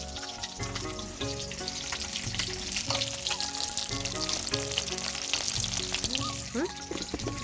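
Leafy greens frying in ghee in a home kitchen give a steady, close sizzle throughout, layered under sustained tonal background sound.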